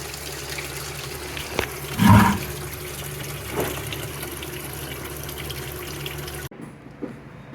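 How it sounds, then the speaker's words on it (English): Coolant drains out of a 1975 Chevrolet C10 radiator. A brief gush of liquid splashes out near the start over a steady background hiss, then a smaller trickle follows before the sound cuts off abruptly. "we're gonna have to drain the radiator"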